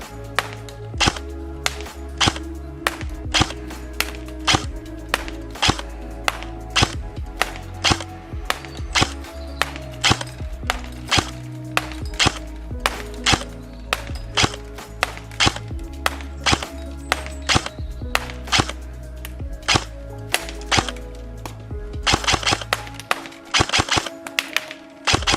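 A Specna Arms SA-J06 Edge AK74 airsoft AEG fires outdoors in a long series of sharp, evenly spaced shots and short bursts, loud and close throughout.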